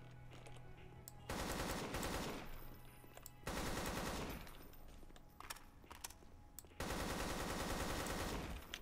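Long bursts of automatic gunfire in a first-person shooter, Hunt Down The Freeman, fired at enemies, loud and rattling in three sustained volleys separated by brief pauses.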